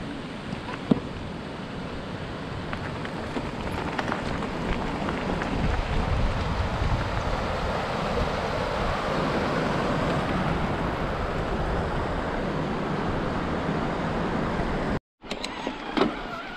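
Dog Falls waterfall in Glen Affric, a continuous broad roar of rushing water heard from the trail, steady and moderately loud, broken by a brief dropout near the end.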